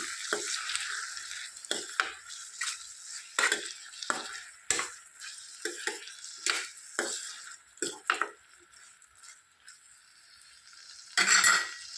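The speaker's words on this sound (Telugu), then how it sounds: "ఇప్పుడు మరొకసారి కలుపుకుందాం." A spoon stirs drumstick curry in a pan, with an irregular run of scraping strokes, soft sizzling and occasional metallic clinks. It sounds close and moderately loud, and a louder clatter comes near the end.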